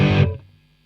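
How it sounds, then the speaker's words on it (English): A Boss DS-1-style distortion pedal into a clean Boss Katana 100 combo amp: a single loud, fuzzy guitar chord that cuts off abruptly and rings out briefly. "A distortion pedal put on a cleanish amplifier sound."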